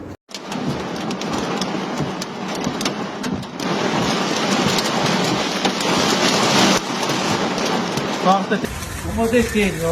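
Heavy rain pours down in a steady, dense roar during a severe storm in Italy with hail and strong winds, with a voice talking over the downpour near the end.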